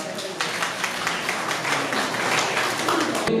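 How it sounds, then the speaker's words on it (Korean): Audience applause at an award ceremony, the 13th Incheon kidney-disability association year-end event in 2018, with steady clapping filling the room at moderate level throughout. "큰 박수 부탁드리겠습니다"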